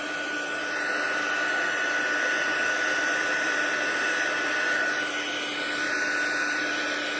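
A heat tool blows steadily as it warms embossing powder on patterned designer paper, a loud, even, close-up whir like a hair dryer that runs without a break and with no talk.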